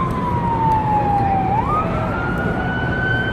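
A loud, close security vehicle siren near the Jamarat in Mina wails in a single long tone that drops slightly, then jumps up to a higher pitch, over a low rumble of traffic.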